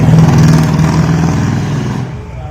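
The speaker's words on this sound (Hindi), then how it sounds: "ये जो बुलेट की आवाज़ है अच्छी भी बहुत लगती है" A Royal Enfield Bullet motorcycle rumbles past close by, its deep thumping engine loud at first and then fading as it moves away.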